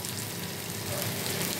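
Crushed garlic hits hot oil with frying onion, giving a steady, soft sizzle and crackle that stays fairly quiet and even throughout, swelling slightly toward the end.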